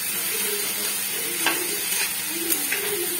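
Brinjal and garlic fry in a pan with a steady, close sizzle, joined by a few soft stirring clicks and scrapes partway through.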